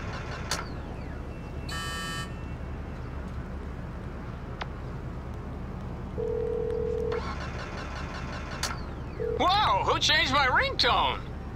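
A worn-out car's engine cranks repeatedly and fails to catch in GTA V, the starter whirring in short bursts among game ambience, beeps and a voice.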